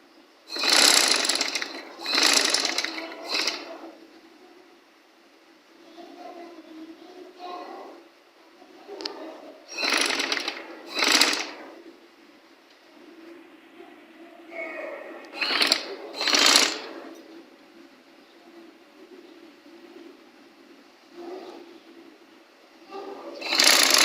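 Sewing machine stitching a fabric sleeve, running in several loud bursts of rapid mechanical stitching separated by quieter pauses filled with handling noise.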